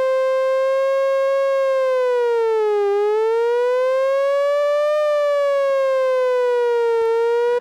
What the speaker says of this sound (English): you can hear it's modulating the pitch.